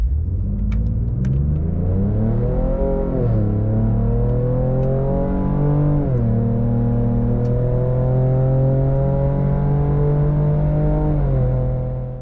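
A pickup truck engine pulls hard while towing a trailer in a ute towing test, loud and steady, its pitch climbing through the gears with brief dips at each shift and no talking over it.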